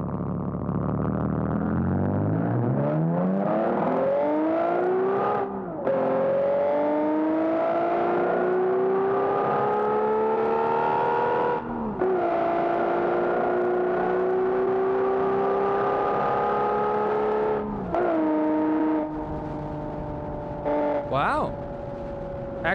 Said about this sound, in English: Actually sounds not too bad for a V12.